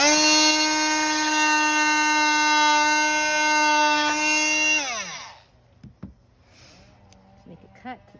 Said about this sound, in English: use my multi-tool to cut in between these eyes